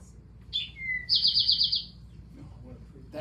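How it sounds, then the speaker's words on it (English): An Eastern towhee sings a short phrase: two brief introductory notes followed by a rapid, buzzy trill, clear and close against a quiet background, with a faint low rumble. "So that's the towhee, Eastern towhee."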